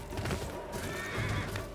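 A horse whinnies loudly and repeatedly in the video game Ghost of Yotei, its shrill neighs rising and falling close by, with a hint of hooves.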